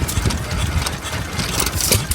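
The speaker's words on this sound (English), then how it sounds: "I knew I recognised the engine. There's Dave's engine. Don't that run an absolute treat" A Bamford stationary engine runs at a steam and vintage rally, a steady close mechanical chugging with a busy, loud texture, continuous and without speech.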